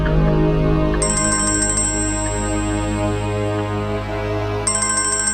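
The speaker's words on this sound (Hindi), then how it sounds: "भाभी का फोन नहीं, हुमा का है।" A phone ringtone plays loudly, a bright repeating electronic melody with a high pulsing tone that stops briefly and then starts again.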